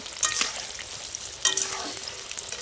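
Potatoes frying in oil in a kadai, a steady close sizzle with a few sharp spatters and scrapes breaking through, no voices.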